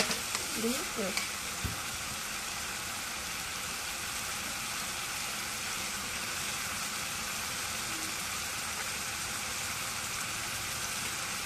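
Spice paste of ground garam masala and cumin frying in a pan with beef, a steady soft sizzle filling the whole stretch, with a few brief knocks and stirring sounds near the start.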